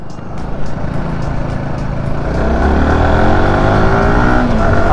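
A motorcycle engine runs steadily and then revs higher, its droning pitch climbing toward the end. No voices, just continuous loud engine noise.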